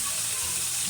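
Onions sauté in a pan with a steady, close hiss and sizzle of frying, continuous and alone throughout.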